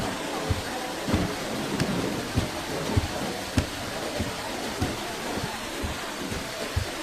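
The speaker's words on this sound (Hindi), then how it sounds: "तुम तो बारिश को देखो" Steady rain hiss with scattered low thumps that suggest distant thunder rumbling beneath it, at moderate level and without voices.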